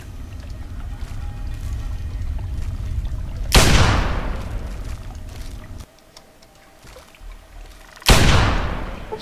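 Two sharp, loud gunshots ring out in Fallout 3, each with a long echoing tail, about four and a half seconds apart over a steady ambient wash.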